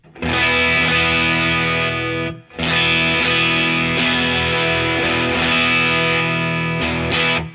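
A PRS S2 electric guitar on its bridge pickup is played through lower-gain overdrive, ringing chords in two loud phrases split by a brief pause.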